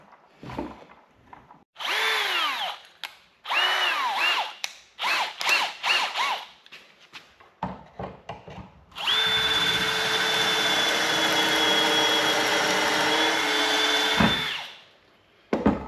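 A power drill bores pocket holes in wood through a Kreg 720PRO pocket hole jig, with a few short close bursts first and then one loud, steady whining run lasting about five seconds before it cuts off.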